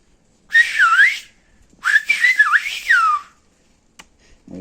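Two whistled silbo phrases from Tenerife, loud and close, each a sustained gliding tone rising and falling in pitch, separated by a short pause, with a faint click near the end.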